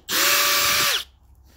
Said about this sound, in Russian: и сверлю.